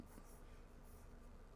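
Pen writing in a Hobonichi Cousin planner, very faint soft scratching strokes close by in a quiet room, no talk.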